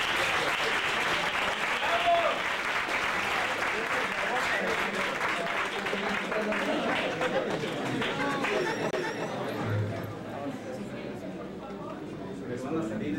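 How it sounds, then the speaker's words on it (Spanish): Audience applause for the representatives at a youth election debate, sustained clapping and chatter from a crowd that gradually thins toward the end, with birds chirping faintly in the background. "un último aplauso para los representantes"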